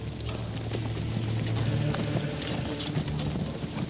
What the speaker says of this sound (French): Les chevaux jaillissent derrière vous, soulevant la terre et l'herbe.